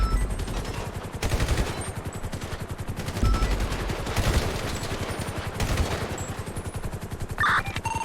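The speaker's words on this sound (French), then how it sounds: "Ça tire, ça tire, ça tire!" Rapid gunfire from an M4 rifle in a shootout, bursts of close, sharp cracks repeating in quick succession, with chatter and a beep near the end.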